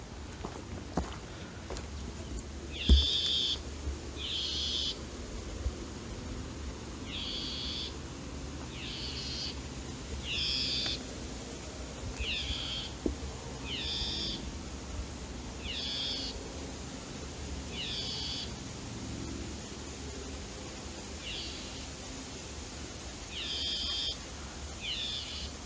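At the Eales Preserve by O'Conner Reservoir, a bird calls again and again at fairly regular intervals, owl-like hoots carrying at moderate distance over quiet outdoor ambience and a few soft footsteps.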